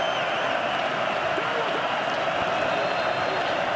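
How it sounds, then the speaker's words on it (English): A home crowd roars steadily inside a dome stadium during a third-and-seven play in a UFL football game between the St. Louis Battlehawks and Michigan Panthers, a dense, continuous wash of noise without a break. "Home dome advantage with the roar of a crowd on 3rd and 7."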